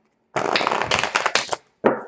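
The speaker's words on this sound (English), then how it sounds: "But I prefer the riffle shuffle." A deck of tarot cards is riffle shuffled, a close, crisp burst of rapid flutter lasting over a second, then a short pause and a brief final snap as the cards bridge together.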